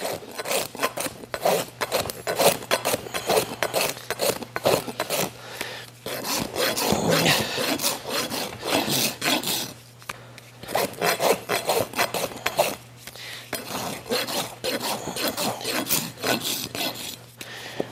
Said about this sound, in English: I did not take very many rasp strokes and I'm almost there